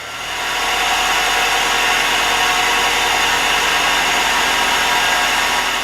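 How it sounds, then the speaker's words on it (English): Loud, steady whine and whir from a running 1997 Nissan 2.4L engine with its alternator droning, holding an even broadband level for the whole stretch with no voices. "The noise you hear is the alternator."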